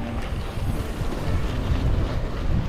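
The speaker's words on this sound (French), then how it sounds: "il y a quand même pas mal de vent" Steady wind buffeting against the microphone during a triathlon, a continuous low rumble with gusty swells and no voices.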